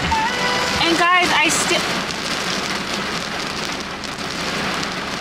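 Heavy rain pours onto a car, a dense steady roar of drops hitting the roof and windows from close by, with a brief burst of voice near the start.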